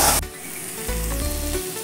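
Ginger and garlic sautéing in a pan, a continuous close sizzle with a brief louder hiss at the start, steady and unbroken, no voices.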